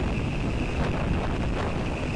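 Strong outdoor wind buffets the microphone in a steady, loud rumbling roar that fills the whole moment, with no voices.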